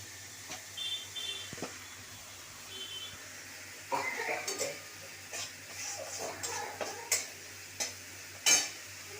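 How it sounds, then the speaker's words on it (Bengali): Masala being stirred and fried down with water in a pan while cooking egg curry, with soft scraping stirs and faint sizzling building into louder, irregular spoon clatters against the pan near the end. "মশলাটাকে আমি অনবরত একটু কষাতে থাকবো"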